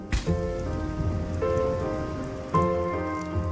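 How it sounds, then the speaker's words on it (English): Rain falls on the African savannah, a dense patter under soft tonal swells that rise at intervals, with no voices. "When the rains finally come,"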